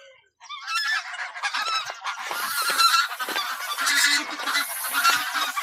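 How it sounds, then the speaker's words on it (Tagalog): A large flock of geese on a farm honks continuously, a loud overlapping chorus of nasal calls close by with no talking, building right after a brief quiet start. "Ay, mga gansa oh."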